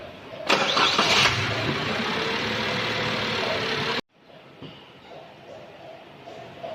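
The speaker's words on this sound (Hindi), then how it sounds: "गाड़ी को स्टार्ट करना है, इंजन को स्टार्ट करना है या क्रैंक करना है" A car engine cranks and catches in a loud, steady mid-pitched run for about three and a half seconds, then cuts off abruptly on its own, leaving a quieter, uneven rumble afterward, with no talking.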